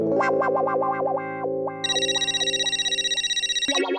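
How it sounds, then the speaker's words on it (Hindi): An electronic phone ringtone plays a repeating melodic pattern, then switches to a brighter, buzzier warbling tone, loud and close. "माधवी का फोन अगर अभी नहीं उठाऊंगा ना तो टेंशन करेगी बेचारी"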